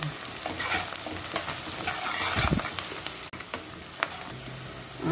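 Onions fry for mutton curry with a dense, steady sizzle close by. A stirring scrape or two and a soft clunk break through the hiss.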